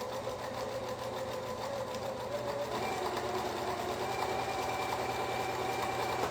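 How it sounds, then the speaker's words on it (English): Home sewing machine stitching quilt pieces for flying geese blocks, a steady continuous whir of the motor and needle running without pause, close and moderately loud. "we're gonna sew 1/4 inch on either side of the line"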